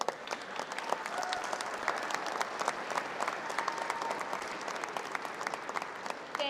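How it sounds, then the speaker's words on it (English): A crowd at a political rally in Harrisburg applauds heavily and without pause, a dense wash of clapping with scattered cheers and whistles mixed in. "Thank you for that big round of applause."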